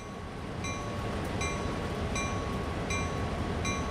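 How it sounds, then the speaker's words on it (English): In the Train Sim World 2 video game, an AI train passes in the evening with a loud, steady rolling rumble and regular metallic clicks of wheels over rail joints, and no voices. "there's the other train."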